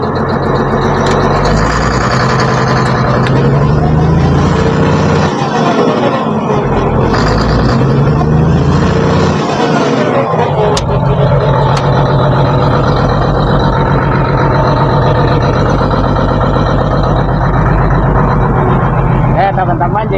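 A Komatsu D155-6 bulldozer's diesel engine roars close and loud, its pitch rising and falling as it revs.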